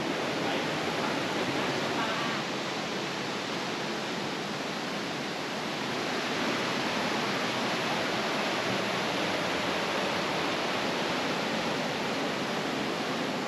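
River rapids inside a Vietnamese cave system rush in a dense, constant roar of white water, loud and close, with no letup and no voices.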